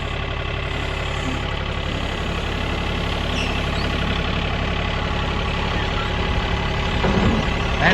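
A Cub Cadet EX 3200 compact tractor, 32 horsepower, works its loader to slide a load into place in a woodlot. Its engine drones steadily up close, with a low, even knock throughout.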